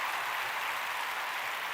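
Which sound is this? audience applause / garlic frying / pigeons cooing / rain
audience applause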